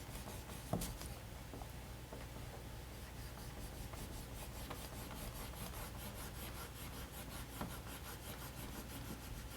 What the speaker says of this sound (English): you transfer by rubbing that image